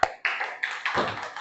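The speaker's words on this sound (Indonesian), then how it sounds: "tepuk tangan" Schoolchildren in a classroom clap their hands in a short, brief burst of quick, light claps, fairly quiet and without talking.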